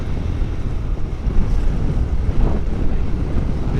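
On the Ganges at Varanasi, a boat moves on the water while heavy wind buffets the microphone, a continuous low roaring rush with faint water washing underneath.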